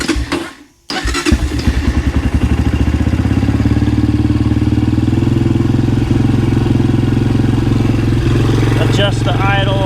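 A dirt bike engine, freshly running after a carburetor cleaning, starts with a brief cough and then settles into a steady, close, loud idle with a continuous rumble and a slight rise near the end, while a person talks over it.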